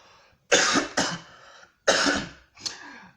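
A person nearby with COVID-19 coughs four times in two harsh pairs, with short pauses between them.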